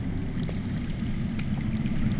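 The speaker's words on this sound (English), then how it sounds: "That's water. I hear water. From underground." Underground water rushing steadily in a Game of Thrones video game scene, a constant low churning flow with faint gurgles, close and even throughout with no voices.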